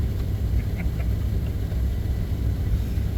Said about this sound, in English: So my heater's going like crazy.